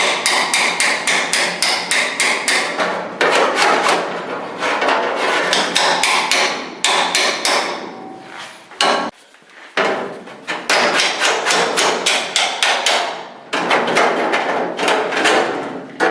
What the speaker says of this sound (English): Start to hammer it.